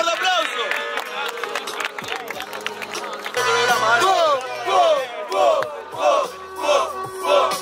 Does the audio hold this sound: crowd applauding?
yes